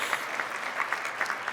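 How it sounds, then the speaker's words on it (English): An indoor audience at a business awards event claps together in a dense, steady wash of applause, even and sustained throughout, moderately loud with no voices over it. "I mean, we should all clap, right?"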